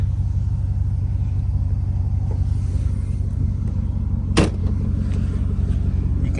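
A Cadillac with a newly upgraded exhaust idles with a steady, low, loud rumble, broken once by a short knock near the end; no voices are heard.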